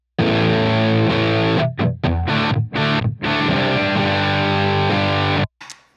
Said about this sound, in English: Let's see what it sounds like with the compressor on.